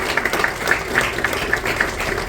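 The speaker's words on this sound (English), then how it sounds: "let's give them a big round of applause." Audience applause honoring an event planning committee at a Lake Michigan Day gathering, a steady wash of clapping at moderate level with a few sharper individual claps standing out, sustained throughout without talk.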